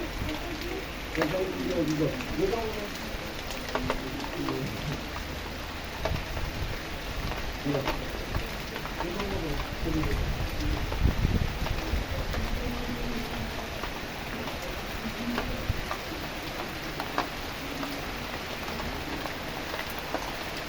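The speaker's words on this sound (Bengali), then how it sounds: "বৃষ্টি দেখেন এখন আরো জোরে বৃষ্টি হচ্ছে" Steady heavy rain pours down in a dense, continuous hiss with pattering drops, and faint voices murmur now and then in the background.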